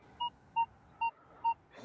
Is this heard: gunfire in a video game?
no